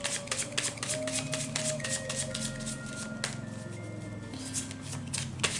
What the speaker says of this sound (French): Je rebats un peu les cartes